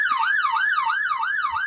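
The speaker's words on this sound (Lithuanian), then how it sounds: "Kas čia per sirena?" A siren in the Roblox video game wails in a fast, regular up-and-down sweep, repeating about four cycles clearly and fairly loudly with nothing else over it.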